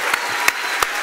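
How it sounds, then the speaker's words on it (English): Audience applause for Edward Snowden at the close of a talk on privacy: a steady wash of clapping with a few sharper, louder claps standing out, fairly close. "let's give the loudest applause we can possibly give to Ed before the party"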